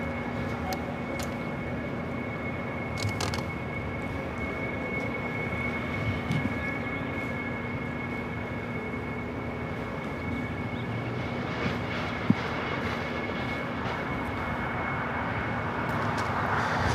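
An airliner taxiing for takeoff at LAX, a steady, moderately distant engine drone with a sustained hum that holds evenly throughout.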